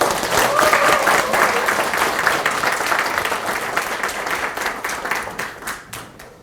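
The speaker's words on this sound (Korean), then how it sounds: "우리 큰 박수로 환영 인사를 올리도록 하겠습니다" An audience gives warm applause welcoming guests at a party members' meeting in Pohang, a sustained dense clapping that thins out into a few scattered claps at the end.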